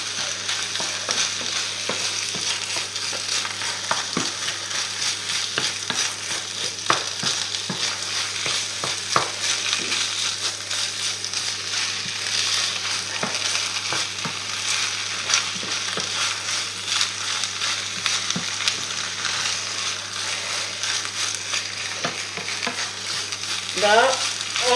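Onions and spinach fry in a little oil in a pan, a steady broadband sizzle running throughout with scattered scraping clicks from stirring, close and continuous with no talking.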